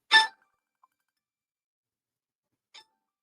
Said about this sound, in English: This messenger or this phone ringing? It's messenger.